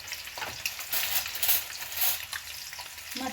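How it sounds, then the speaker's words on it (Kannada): Spices for an egg curry masala fry in a pan with a steady, close hiss and crackle, broken by faint scraping stir strokes and no talking. "ಈಗ ನೀಟಾಗಿ ಫ್ರೈ ಆಗಿದೆ"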